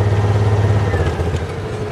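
Mule 610 utility vehicle engine running with a quiet exhaust, a steady low idling rumble with faint mechanical clatter, close and even, with no talk over it.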